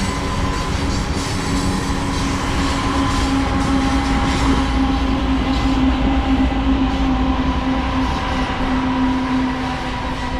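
A General Electric locomotive with a 16-cylinder, 4,400-horsepower engine slows down. The engine throbs steadily while wheels squeal faintly and rail cars rumble past, loud and continuous.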